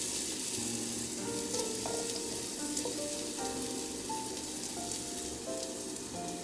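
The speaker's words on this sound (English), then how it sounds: "The first one that I am going to put in the pan is the ginger." Ginger fries in a pan for a Filipino adobo, giving a dense, steady sizzle with scattered crackles and brief pops running throughout, close and unbroken, with no voices.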